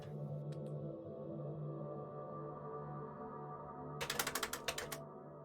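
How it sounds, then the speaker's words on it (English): A new, fairly loud computer keyboard clicking under a gaming session, a quick burst of sharp keystrokes near the end over a steady hum of background game sound, with no talking. "Can you guys hear my keyboard, by the way? I have a different keyboard now."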